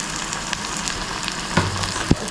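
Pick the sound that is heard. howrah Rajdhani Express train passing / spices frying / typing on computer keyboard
spices frying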